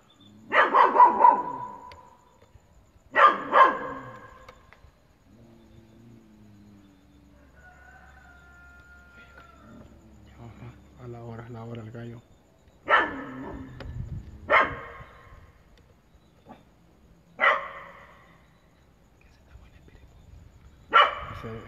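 A dog barks in loud separate bursts, roughly six outbursts spread out with quiet gaps, at night inside a Pentecostal church during a paranormal exploration, with faint other sounds in between.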